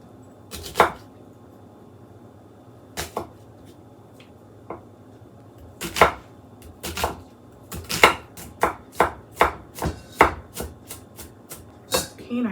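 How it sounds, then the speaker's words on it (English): Onion is diced with a knife on a cutting board: crisp, close chops, first a few isolated strikes and then a quicker, regular run of cuts, set against a quiet kitchen. "We want about a cup of onion, diced up finely"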